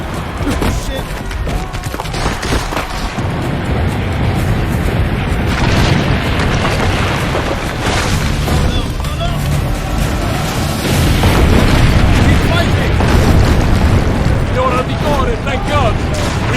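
Cannon fire and explosions in the Assassin's Creed Brotherhood video game, deep booms and splintering cracks repeating through a dense battle din, with people shouting over it.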